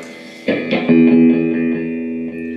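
Electric guitar through an amp: a few struck, distorted chords that swell and ring out with sustain and effects, filling the space alone.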